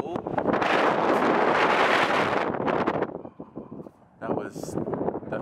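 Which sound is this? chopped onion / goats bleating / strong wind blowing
strong wind blowing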